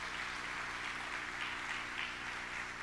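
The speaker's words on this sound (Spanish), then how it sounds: "Podemos darle un aplauso al Señor" Congregation applauding in a church service, a steady wash of many hands clapping at moderate distance, continuous throughout with no voices on top.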